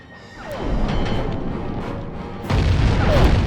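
Fiery explosions and bursts in the video game Sly 3, a loud rumbling blast building early and a second heavier boom near the end, with crackling debris and hissing sweeps throughout.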